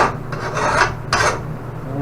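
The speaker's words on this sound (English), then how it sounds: "Run the file over the other end." A hand file rasps along the cutting edge of a lawn mower mulch blade, sharpening it in a few loud, close, gritty metal strokes with short pauses between them.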